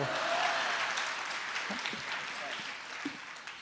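A live comedy audience claps in a dense, steady wash that fades slightly toward the end, with brief voice fragments poking through.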